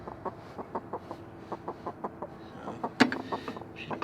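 Broody hen sitting on her eggs, giving a steady series of soft, low clucks at an even pace, close by and fairly quiet, with one slightly louder squawk near the end.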